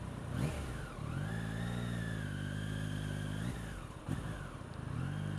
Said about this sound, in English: Quite like the triple sound, and then they've made it a bit louder.